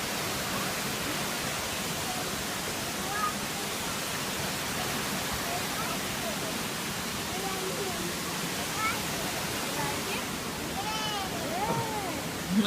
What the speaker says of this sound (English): You got the falls right here.